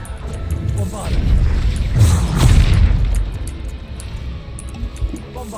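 Bombarda blasting spell detonating in Hogwarts Legacy, a deep rumbling boom that swells and rolls over a couple of seconds before trailing off, with a voice speaking alongside.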